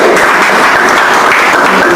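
A room full of people gives a teacher loud, dense applause at a school training session, a continuous wash of clapping close by that lasts throughout.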